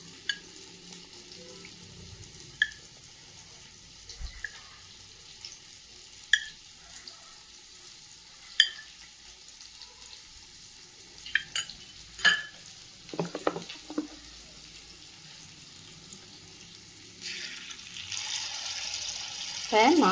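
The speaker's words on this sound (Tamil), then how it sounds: "சூடான கடாயில் நெய்யை விட்டுக்குவோம்" Ghee heating in a hot kadai: a quiet kitchen with scattered sharp clicks and light utensil taps, then a soft sizzle that swells and grows louder toward the end.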